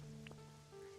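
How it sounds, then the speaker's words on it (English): Steady rain patter falls in the Pokopia video game, a constant even hiss alongside sustained musical tones and a brief soft chime, with no talking. "it's been a rainy playthrough today"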